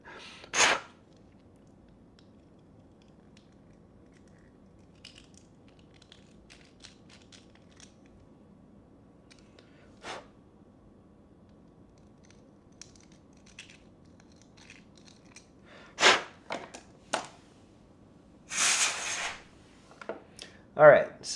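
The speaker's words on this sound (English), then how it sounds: "That good old razor blade scraping noise." A razor blade scrapes in short, separate rasping strokes while a 3D printer kit is being built, with a single stroke near the start and a denser cluster toward the end over a quiet room.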